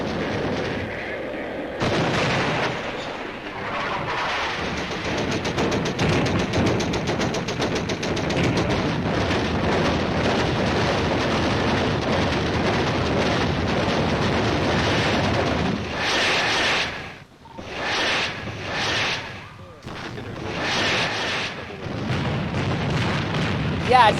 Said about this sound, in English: Enemy fire gets closer.